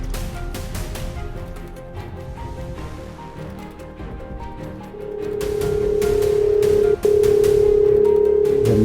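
A telephone call rings through, with an electronic ringback tone beginning partway in and holding steady and fairly loud over a low background hum, briefly cut before resuming.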